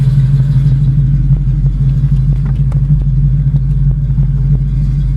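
A 1972 Chevrolet Camaro with a 350 crate V8 cruising on the road, its engine droning as a steady, loud low rumble with light mechanical ticks and no talking.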